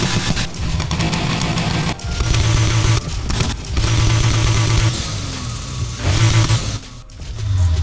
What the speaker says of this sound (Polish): w tym silniku ta V6 brzmi, jakby nawet turbo miała turbo